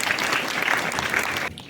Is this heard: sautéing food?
no